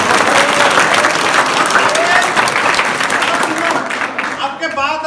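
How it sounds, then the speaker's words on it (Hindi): Loud, dense applause from a large audience at a laughter motivation session for student volunteers, sustained steadily before thinning slightly near the end, with crowd noise mixed in. "बजाओ तालियां।"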